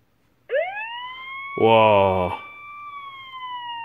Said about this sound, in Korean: 사이렌이 울립니다.